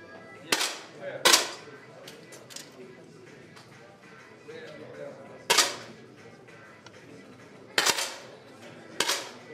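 10m air rifle competition shots at a European youth league bronze match, fired as sharp isolated cracks spread irregularly across the stretch, several close together, over a quiet hall murmur with faint voices in the background.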